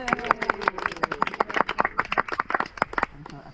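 A few people clapping outdoors by a lake, rapid uneven hand claps close by, with faint voices beneath.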